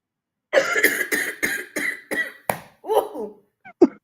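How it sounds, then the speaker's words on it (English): Person coughing in a close, rapid fit of about eight harsh bursts over a few seconds, ending with a couple of weaker ones. "had to cough on that one, child."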